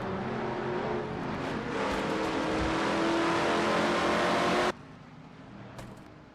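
A race car engine in a racing video game roars steadily at high revs, setting up for a corner at Riverside, then drops off abruptly near the end as the throttle closes, leaving a faint lower hum.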